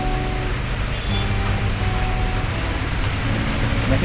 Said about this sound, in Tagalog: Ulan no?